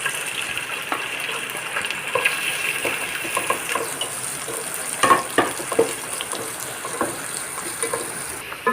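Onions and green chillies sizzle in hot oil for an Odia potato curry, a steady frying hiss with occasional louder crackles and stirring scrapes, close and continuous with no talk.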